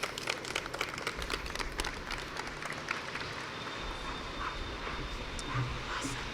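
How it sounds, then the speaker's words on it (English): An outdoor crowd at a college tree planting ceremony in Newark applauds as Senator Teresa Ruiz comes to the podium: steady, moderate clapping spread over a low background rumble, with the sharpest claps near the start. "Can we have a round of applause as she comes to the podium?"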